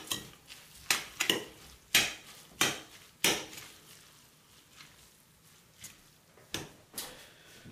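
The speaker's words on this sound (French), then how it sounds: "Mélanger." Japchae ingredients, Korean sweet potato noodles with spinach, sesame oil and sugar, are stirred and tossed with a utensil in a pan, giving a series of sharp, irregular clacks and scrapes, close and without speech.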